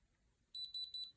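A diamond tester gives three quick, high electronic beeps in an even rhythm, clear and close in an otherwise quiet setting.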